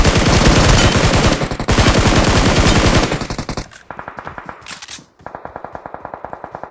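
BGMI gameplay carries loud, rapid automatic gunfire in several close bursts of fast, evenly spaced shots, with brief pauses in between and quieter rattling volleys near the end.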